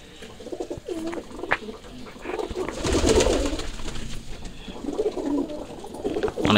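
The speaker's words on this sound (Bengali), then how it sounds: "খাওয়া দাওয়ার পর কিন্তু ডাকাডাকি বলা বলি বেশি হয় সব এলাকার কবুতরই" Pigeons coo after feeding, their soft, throaty calls overlapping steadily at close range with a background murmur of other birds and faint rustling.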